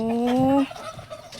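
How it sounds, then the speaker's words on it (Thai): Domestic chickens on a rural Thai home garden farm, one loud nearby bird giving a short drawn-out call, followed by faint clucks and soft background sounds. "แล้วก็เลี้ยงไก่ด้วยเหรอคะ ไก่บ้านไก่บ้าน"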